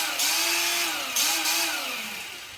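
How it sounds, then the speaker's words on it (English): A small cordless angle grinder from an Aldi power tool set spins up with a high whine, runs for about two seconds with its pitch wavering slightly, then winds down, close and alone. "we also get a little angle grinder with a handle that you attach to either left or right hand side"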